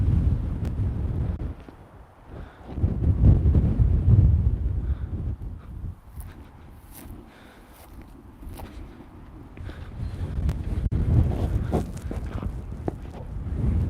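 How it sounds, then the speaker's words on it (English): Strong wind blowing across a microphone outdoors, producing low buffeting rumbles that surge and fade in gusts, loud and close, with no talking. "Strong wind."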